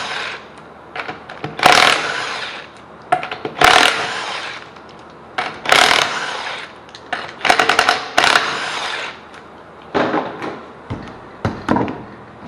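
A power tool, likely an impact wrench, spins a 19mm lug nut off the wheel of a 2010 Ford Taurus in a garage: about half a dozen loud, sharp whirring bursts, each a second or two long, with short pauses between.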